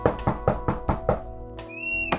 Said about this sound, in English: I rode my bike over to his house, and I knocked on the door.